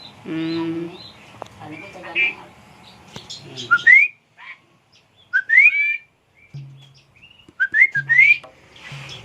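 Asian pied starling on sale at a village bird market, giving repeated bright whistled calls and chirps in short bursts, with talk and a low voice in the background.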